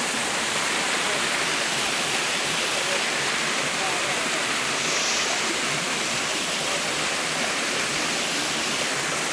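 Tall waterfall at the head of a stream in the mountains, a dense, constant roar of falling water filling the whole scene, loud and close with no break.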